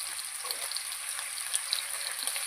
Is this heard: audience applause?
no